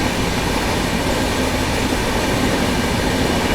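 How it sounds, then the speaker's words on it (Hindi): Bihar Sampark Kranti Superfast Express 12565 runs at speed through Shikohabad Junction, heard from inside a 2AC coach as a constant loud rumble of wheels and rails with faint clatter. "फिलहाल अपनी ट्रेन स्किप करने जा रही है शिकोहाबाद जंक्शन"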